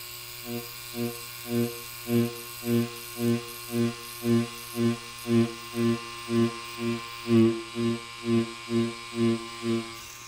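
A tattoo machine buzzes steadily during pull whip shading with gray ink, its motor hum swelling and fading in a regular pulsing rhythm about once per second; close, loud and continuous, without speech.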